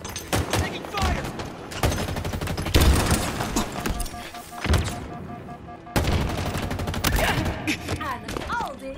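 Rapid gunfire in Halo Infinite multiplayer: repeated bursts of close, sharp shots in clusters separated by brief lulls, with other game sounds mixed in.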